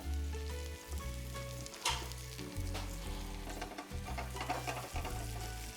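Garlic sizzles in butter alongside pan-roasting hen of the woods mushrooms, a steady close frying hiss with scraping stir strokes and a low hum underneath, no voices.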